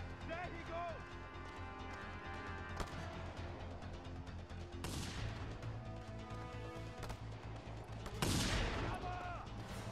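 Rapid turret gun fire in the action game Just Cause 2, steady bursts of shots with explosions swelling near the end, all under a dense game music and effects bed while a voice talks over it.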